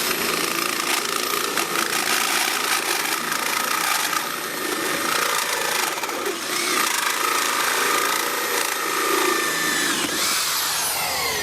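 An electric drill run from an inverter bores through 3mm metal plate, a loud continuous whine and grinding that wavers slightly in pitch as the bit bites, close up with a faint engine drone underneath.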